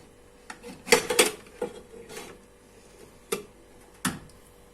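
A spoon stirs a pot of meat-and-bean stew with a few clanking knocks against the metal, then the lid clinks shut, scattered sharp taps spread over a few seconds in a quiet kitchen.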